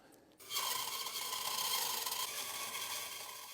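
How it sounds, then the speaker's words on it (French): A band saw starts up after a short pause and runs steadily, a bright continuous whirring hum with a faint rasp, fairly quiet. "ma lame, ça c'est une scie à ruban. J'allume."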